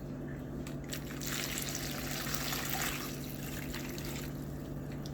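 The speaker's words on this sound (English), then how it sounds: "So I'm gonna pour some hot water over them." Hot water poured over dried peppers in a kitchen to soak them, a soft steady trickle and splash of liquid that swells in the middle and then eases, quiet over a constant low background hum.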